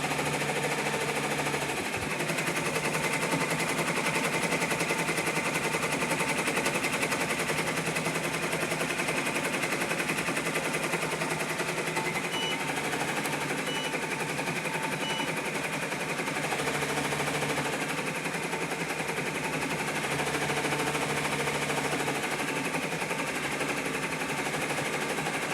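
An embroidery machine stitches an appliqué tack-down onto a shirt, giving a steady, rapid mechanical rattle of needle strikes that runs continuously at an even level with no one talking.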